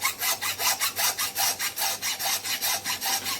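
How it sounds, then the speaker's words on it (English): A butcher's hand saw rasps through lamb bone in steady, rhythmic back-and-forth strokes, close and fairly loud, about three strokes per second with no talking. "So I'm going to use my butcher's saw."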